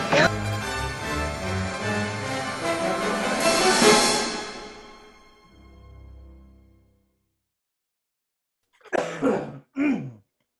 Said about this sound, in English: Coughing break.